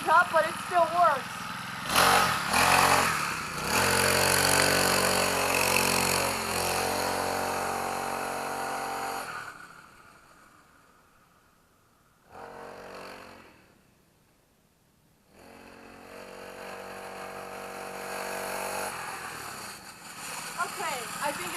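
A KTX mini dirt bike engine buzzes loudly during a lap, its revs rising and falling, then the sound drops away briefly before it roars back close by.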